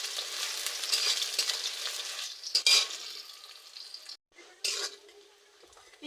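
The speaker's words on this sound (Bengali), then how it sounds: "এবার পেঁয়াজ দিয়ে দেব, দিয়ে পেঁয়াজটা একটু লাল লাল করে ভেজে নেব।" Onions sizzling and frying in hot oil in a pan while cooking chicken curry, a hissing crackle with stirring scrapes and a clatter of utensils, dropping briefly to near silence before the sizzle resumes.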